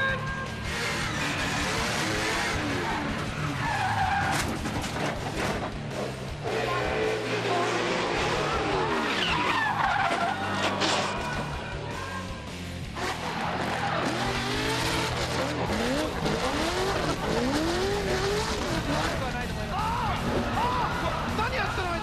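A Toyota 86 drift car skids through a D1 competition run, tires squealing in long wavering screeches over a loud, steady engine roar, with excited commentary running throughout.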